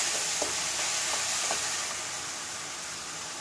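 Ginger garlic paste frying in a pan with onions, tomatoes and green chilies for a hotel-style cauliflower kurma: a steady close sizzle and hiss with a few soft stirring clicks, fading slightly toward the end.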